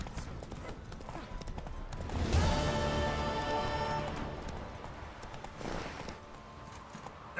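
Hooves of the horse Roach clip-clop at an easy pace in the Witcher 3 video game, a steady rhythmic patter under a swell of music and game ambience, with no talking.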